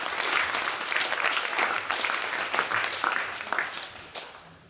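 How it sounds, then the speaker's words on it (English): An audience at a conference keynote gives a round of applause, dense and sustained clapping from many hands filling the whole stretch at a steady, fairly close level. "Robin, you want to let everybody give you a round of applause?"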